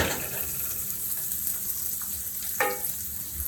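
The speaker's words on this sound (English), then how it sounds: "let the tomatoes, sun-dried tomatoes and the onions just sweat here for about 2 minutes." Sun-dried tomatoes and onions sweat in a pan with a steady, close sizzle and a brief stirring scrape near the end.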